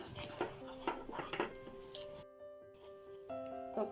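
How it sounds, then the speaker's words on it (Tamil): A spoon clinks and scrapes against a pan while bread crumbs are stirred into thickening milk for an eggless bread pudding, with a few irregular metallic taps, then a brief quiet stretch. "பிரெட் க்ரம்ஸை கொஞ்சம் கொஞ்சமாக ஆட் பண்ணிவிட்டு நம்ம நல்லா கிண்டணும்"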